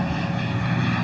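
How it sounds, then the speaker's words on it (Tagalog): A propeller airplane comes in to land at El Nido, its engine giving a loud, steady droning hum throughout the brief moment. "Yan siya mag-landing."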